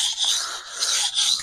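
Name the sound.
knife being sharpened on an 8000 grit whetstone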